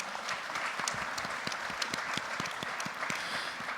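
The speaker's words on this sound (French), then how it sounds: "vous pouvez les applaudir" Sustained applause from an audience at a French round-table on farriery, dense hand clapping at moderate level with no voices over it.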